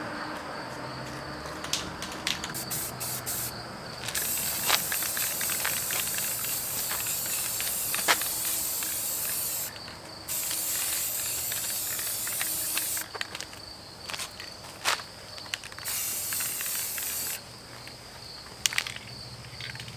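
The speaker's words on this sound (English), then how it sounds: "I'll mist a little silver over it." Silver spray paint misted onto a vintage minibike part comes out in several hissing bursts of a few seconds each, with short pauses between them and a steady close spray sound.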